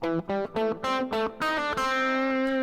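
A distorted electric guitar plays a short phrase of six quick plucked notes, ending on a sustained ringing note.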